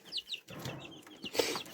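Little chick, a young hen placed in a pot, giving quick high peeping chirps in short bursts, close but fairly quiet, with small handling noises between them.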